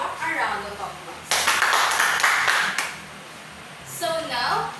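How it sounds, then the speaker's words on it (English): A classroom group claps in two short bursts, the first lasting over a second, the second brief, with a teacher's voice talking before and between them. "So, let's give Joshua a round of applause."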